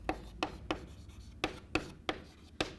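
Pen or marker writing math on a board, seven short sharp strokes at an uneven pace, close and distinct over a quiet background.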